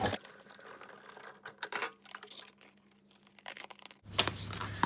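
Embossing folder sandwich being cranked through a die-cutting machine while making a card, giving irregular clicks, crackles and grinding rasps, with a louder burst of mechanical rumbling near the end.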